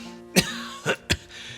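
Three short coughs, fairly quiet and close, the first and last sharp, the middle one softer and throatier, with brief pauses between.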